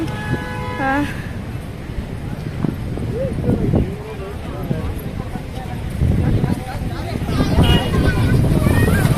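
Vehicle noise all around at crowded Gokak Falls, a loud, continuous rumble of passing traffic and engines with horn-like tones, and voices talking throughout.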